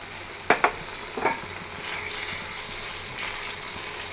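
Taruli vegetable curry sizzles and fries in a pan as garam masala goes in, with a few sharp stirring knocks early on over a steady, moderate frying hiss.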